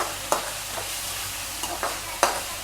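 Onions and tomatoes fry in a pan with a soft, steady sizzle, broken by a few sharp scrapes and clinks as a spoon stirs the mixture. No one speaks.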